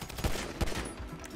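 Two sharp pistol shots from GTA Online ring out about a third of a second apart, loud against a steady bed of game ambience.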